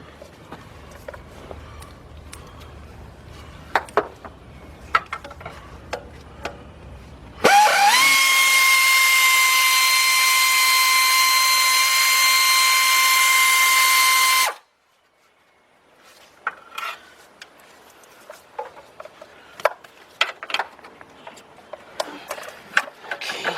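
A wrench works on a 14mm alternator bolt on a 1999 Nissan Altima: a steady, loud whirring tool run of about seven seconds, with scattered metallic clicks and knocks before and after.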